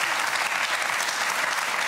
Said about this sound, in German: Die Hamburger klatschen